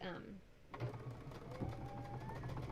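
A sewing machine stitches a quilt block for an Open Star pattern, giving a steady close mechanical whir with rapid needle rhythm that starts after a brief pause, under a person talking.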